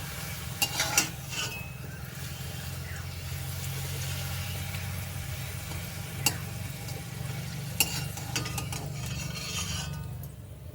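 Papad fries in oil in a wok, a steady soft sizzle with a low bubbling hum, broken by a few sharp clinks of a utensil against the pan.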